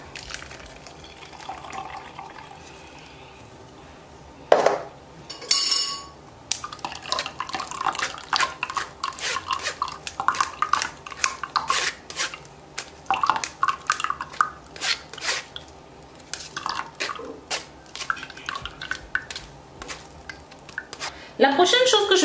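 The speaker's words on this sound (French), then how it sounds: "vous aurez besoin ensuite d'une passoire dans laquelle vous allez filtrer votre boisson" A lemon and cucumber drink is poured through a sieve, giving a trickle of liquid alongside clinks and knocks of kitchenware in quick, irregular bursts, with someone speaking French softly at the start.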